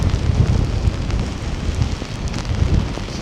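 Rain at Scarborough Beach, a dense continuous hiss with heavy wind buffeting the microphone, loud and close with no voices.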